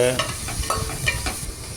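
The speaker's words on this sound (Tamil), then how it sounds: "லேசாக ப்ரௌன் கலர் வர வரைக்கும் அதை வறுத்துக்கலாங்க." Onions sizzling and crackling in hot oil while frying for a Chettinad egg curry, with occasional scrapes and stirring clatters from a utensil in the pan.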